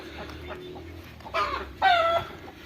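A brooding hen sits on duck eggs in a Punjab village, giving a couple of short, fairly close clucks over a quiet outdoor background.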